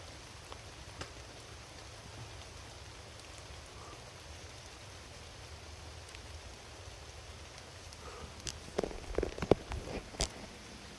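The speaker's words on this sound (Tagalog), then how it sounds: "Lakas talaga ng ulan." Heavy rain pours down steadily as a constant, dense hiss, with a few sharper nearby taps and knocks near the end.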